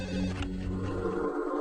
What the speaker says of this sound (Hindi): देर रात आए एक फोन की घंटी ने भोपाल के मुख्य अस्पताल के सीनियर कंसल्टेंट डॉक्टर